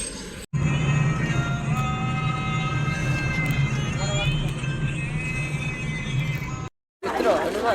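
Inside a moving train, a steady rumbling roll with squealing tonal wheel sounds, heard from a seat with brief cuts in the sound and a voice speaking at the close.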